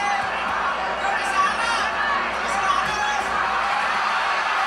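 A boxing arena crowd roars and cheers continuously, a dense wash of massed voices and whoops heard at a distance under a commentator talking.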